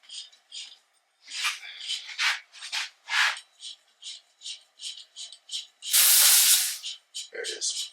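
Pressurised air hissing out of an unscrewed airgun air bottle on a Western Airguns Rattler .30 semi-automatic, a series of short sharp hiss bursts with one longer loud blast near the end.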